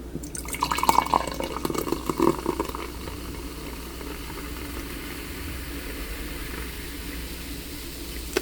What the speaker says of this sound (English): I want this to pour out nicely and rather smooth